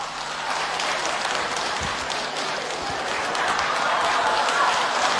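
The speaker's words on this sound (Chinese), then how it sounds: "掌声有请吴凤花。" Audience applause greeting Yue opera singer Wu Fenghua of the Shaoxing Xiaobaihua Yue Opera Troupe at a 2008 broadcast opera concert, a dense, even wash of clapping that holds steady throughout, with a faint murmur of voices in the crowd.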